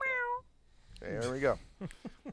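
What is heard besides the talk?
cat meowing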